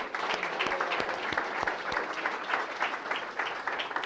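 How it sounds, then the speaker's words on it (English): An audience at an anniversary celebration applauds a woman named Mary Ellen, with steady, moderately loud clapping running throughout and a few sharper individual claps standing out near the front. "and so let's give her a round of applause."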